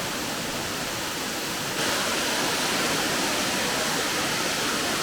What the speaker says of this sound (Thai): ซึ่งเป็นน้ำตกที่ใหญ่มากนะคะ